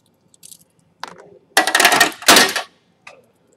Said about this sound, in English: Drop socket wrench.